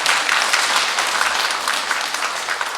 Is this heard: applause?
yes